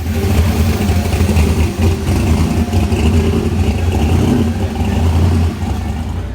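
The supercharged engine of the Mad Max Pursuit Special car revs and roars loudly up close, a continuous heavy rumble with brief dips between pulls.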